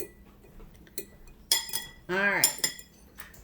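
A spoon scrapes and clinks against a bowl while stuffing for stuffed green peppers is mixed, a few short knocks and rattles, with a brief voice speaking quietly between them.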